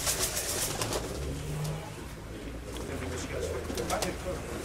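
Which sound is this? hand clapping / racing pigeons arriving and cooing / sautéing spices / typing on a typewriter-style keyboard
racing pigeons arriving and cooing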